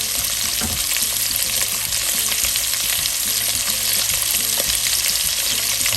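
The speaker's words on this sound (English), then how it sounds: "Fry the veggies up in there. All those beautiful colors and peppers." Mixed vegetables and colorful bell peppers frying in a pan for kielbasa hash, a loud steady sizzle with stirring scrapes and occasional pops running throughout.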